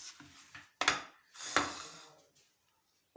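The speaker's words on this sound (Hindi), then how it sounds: "इस तरह टमाटर काट लें।" Kitchen prep for veg pulao, with a knife cutting tomatoes on a board: two sharp chopping knocks plus softer scraping and rubbing sounds, close and quiet, without speech.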